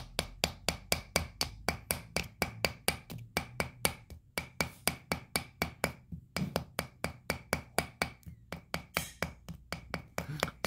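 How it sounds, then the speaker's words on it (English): Hammer striking rock during a dig for gems, dozens of sharp, evenly spaced knocks in a steady rapid rhythm with brief pauses, close and clear with no talking. "let's start hammering it over here so we can get the rock we found"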